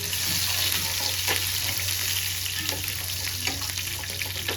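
Cloves, garlic and ginger fry in hot oil, giving a steady, close, even sizzle with occasional faint stirring scrapes and no talk.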